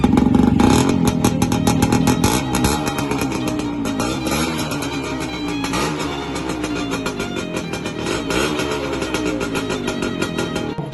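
A two-stroke motorcycle engine freshly converted to a 4-pin CDI runs close and loud, a buzzy crackling idle with blips of revving throttle rising and falling, continuous throughout with no voices.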